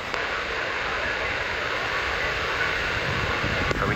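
British Airways Embraer E190 jet taking off at BHD, a steady broadband engine roar holding loud and even throughout with no talk over it.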